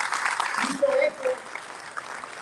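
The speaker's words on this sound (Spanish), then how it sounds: "Solicito respetuosamente un aplauso para el gobernador Samuel García" An audience at a Navistar plant anniversary ceremony in Escobedo gives brief, fairly faint applause for the governor, with a voice speaking over and after the clapping.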